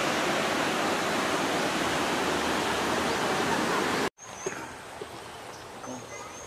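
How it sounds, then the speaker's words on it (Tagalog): A wide river rushes in a steady, loud broadband roar for about four seconds, then cuts off to a quiet outdoor background with faint birdsong. "itong ilog na to malawak na siya"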